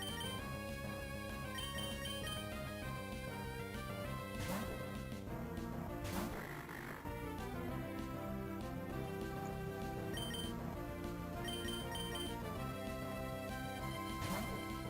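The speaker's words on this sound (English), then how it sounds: "That's my alarm." An alarm goes off with repeating electronic tones layered over busy background game music during a Battle Frontier game session, steady and unbroken for about fifteen seconds with no talking.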